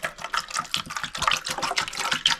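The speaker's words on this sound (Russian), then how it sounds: "Сейчас с водичкой вот так заливаем." Water is poured over fresh young potatoes in their skins in a pot, a steady splashing gush close by with no talking.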